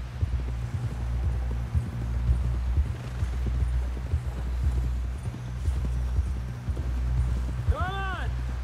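A horse's hooves clip-clop steadily in Red Dead Redemption 2, a low, continuous gallop under quiet talk, with a brief whinny-like call near the end.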